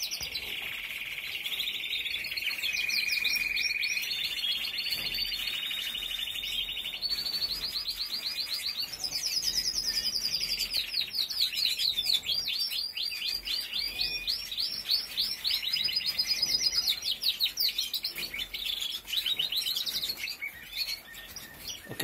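Songbirds chirp and trill continuously and close by, with bright repeated phrases layered over one another and steady singing throughout, with no talking.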